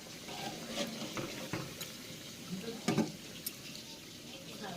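Food cooks in hot oil in a home kitchen, with a soft, continuous sizzle broken by scraping stirs and a few louder clinks of a utensil against the pan.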